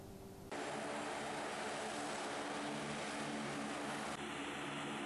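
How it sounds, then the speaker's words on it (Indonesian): Military aircraft, including Hercules transport planes and Sukhoi Su-30 fighters, produce a loud, continuous engine roar with a droning propeller hum. The roar starts abruptly after a moment of quieter noise and holds steady throughout. "Menggunakan dua pesawat Hercules dan empat pesawat tempur jenis Sukhoi Su-30"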